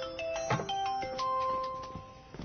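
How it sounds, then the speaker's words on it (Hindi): A mobile phone rings with a melodic electronic ringtone, bright sustained tones stepping up and down at moderate, slightly muffled volume with no speech over it. "ताओ का फोन है।"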